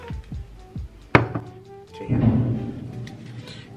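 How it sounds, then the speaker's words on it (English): Fireworks go off outside during a winter evening at home: a few soft thuds, then one sharp bang, followed by a low rumbling crackle that lingers, muffled and heard from indoors. "that's fireworks"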